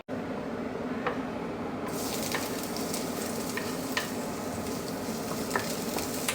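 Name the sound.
garlic being stir-fried in a pan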